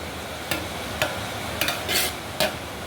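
A spoon stirs biryani rice through masala in a pot, making several scraping strokes at uneven intervals, close and fairly quiet over a low background hush.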